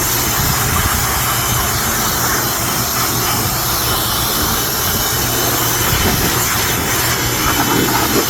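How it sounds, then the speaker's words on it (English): A handheld air blower roars steadily and loudly while blowing out the inside of a York HVAC unit, a continuous broadband rush with no breaks and no talking. "so I'm gonna go get my air blower. We're gonna blow this out"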